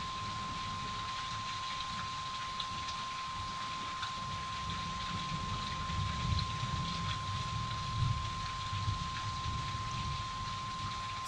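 Steady rain hisses as a broad, even wash of sound, with faint low rumbles underneath and no voices.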